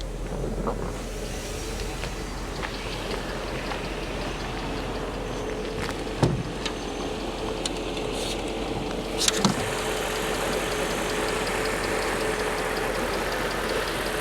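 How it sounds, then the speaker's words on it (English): A 5-litre V8 in a Mercedes SL500 idles steadily with a light, rapid tappet ticking from a sticking tappet, heard close under the open bonnet, with a couple of sharp knocks partway through. "I think a sticking tappet, just a little bit of a tappy noise"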